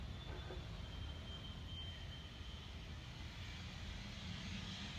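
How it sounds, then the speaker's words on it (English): A private jet at Naples Airport, heard as a steady distant engine roar that holds evenly throughout with no talk over it. "That's a nice private jet there."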